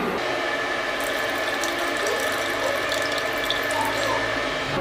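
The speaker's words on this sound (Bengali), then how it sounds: "চটকে নিয়ে যে তেঁতুলের জলটা যে বেরোবে ওর মধ্যেই দিয়ে দেব তেঁতুলের জলটা" Tamarind water squeezed from soaked tamarind and poured into a pot of tur dal with drumsticks, a steady close splashing and trickling of liquid with faint clinking, continuous throughout with no talk.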